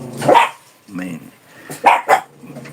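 A dog barks a few times in short bursts nearby, the sharp yaps spaced unevenly, with a person speaking in the background between them.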